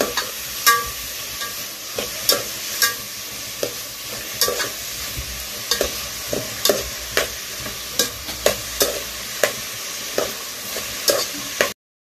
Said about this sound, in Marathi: गोल्डन ब्राउन होण्यापर्यंत ह्याला आता परतून घ्यायचं